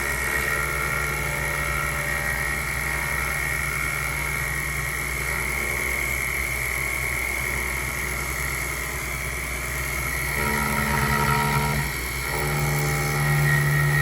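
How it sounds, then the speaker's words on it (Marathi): Table-top mini lathe with a milling attachment running steadily, a continuous mechanical whine and motor hum with tonal overtones that shift slightly toward the end as the cut changes. "सगळ्या ॲक्सेसमध्ये आपल्याला हे मशीन चालवता येतं आणि आपण त्याचं छान पद्धतीने मिलिंग करू शकतो."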